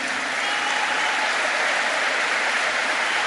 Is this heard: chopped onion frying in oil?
no